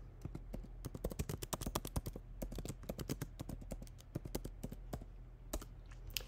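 Brisk, steady typing on a computer keyboard, a fast run of distinct clicks heard close up with a low hum underneath, continuing for several seconds without speech.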